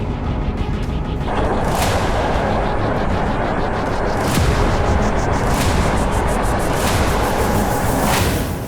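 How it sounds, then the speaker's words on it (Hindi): Explosions in Saratov: a constant loud roar is broken by several heavy booming blasts spaced a second or more apart, each a sharp crack fading into the din. "सारातोव में 14 सितंबर की भोर से पहले ही जबरदस्त विस्फोट की आवाज आई"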